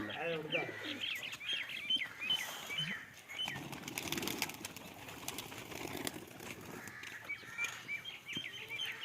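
Flying-breed pigeons at a rooftop loft in Pakistan give soft cooing calls, with bursts of wing flapping and brief chirps through the middle. Someone talks quietly in the background.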